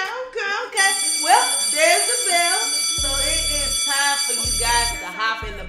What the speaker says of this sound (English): Well, there's the bell.